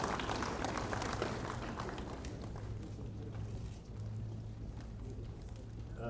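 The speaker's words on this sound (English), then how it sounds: "A round of applause to our session chair" Steady applause from a workshop audience at the Kenya Music Festival, greeting the session chair; a dense, even patter of many hands held at moderate distance for several seconds, with no voices on top.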